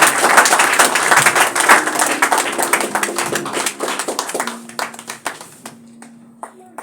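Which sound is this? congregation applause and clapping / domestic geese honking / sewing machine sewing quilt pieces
congregation applause and clapping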